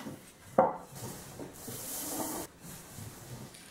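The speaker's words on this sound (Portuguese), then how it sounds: "Cortando o segundo pão que eu fiz" Homemade no-knead bread, the second loaf baked, being sliced with a knife: a soft, steady rasping saw through the crust and crumb, close and fairly quiet, with a sharper scrape near the start.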